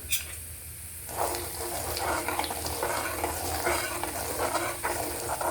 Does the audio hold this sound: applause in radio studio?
no